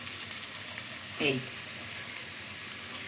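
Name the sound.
chopped onion frying with onion paste in a pan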